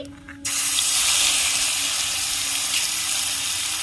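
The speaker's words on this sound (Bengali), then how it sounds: "একটু কালো জিরে ফোড়ন দিয়ে দিচ্ছি বেটে রাখা সর্ষে আর পোস্ত দিয়ে দিচ্ছি" Ground mustard and poppy seed paste dropped into hot oil with nigella seeds: a sudden loud, steady hissing sizzle that starts after a short pause and holds evenly to the end.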